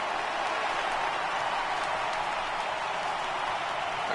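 Stadium crowd of over 37,000 in the baseball video game MLB The Show 18 roars steadily at full volume, a dense continuous wall of cheering that holds evenly throughout without breaks.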